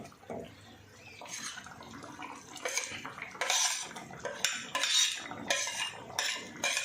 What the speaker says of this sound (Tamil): இப்போ தேங்காவை அரைப்பாக ஊற்றுவோம்